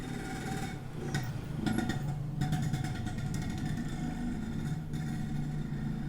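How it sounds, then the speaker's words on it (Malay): A Yamaha 125Z two-stroke motorcycle engine runs steadily with a buzzing idle, mixed with light metallic ticking in a workshop during engine assembly. "Lain macam bunyi 125Z tu."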